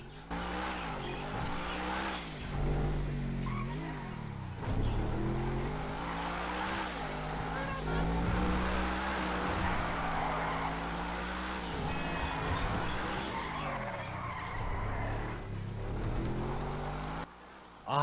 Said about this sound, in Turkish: Arabanın sesini dinleyin bak.